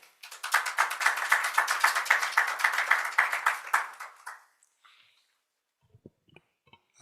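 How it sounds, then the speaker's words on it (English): Applause from an audience at a youth council session of a regional forum, a steady wash of many hands clapping for about four seconds before fading out into near silence with a few faint knocks. "So a big applause to Luka."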